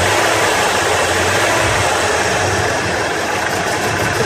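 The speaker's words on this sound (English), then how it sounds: "And we'll give her a couple revs" A Ford engine with a suspected plugged fuel injector runs loud and steady close by, a rough mid-to-low drone with slight swells in pitch as the throttle is raised.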